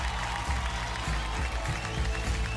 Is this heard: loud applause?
yes